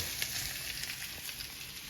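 Ground sausage sizzles steadily while browning in a pan for an egg roll in a bowl, a continuous bright crackling hiss with small pops, alone and fairly soft.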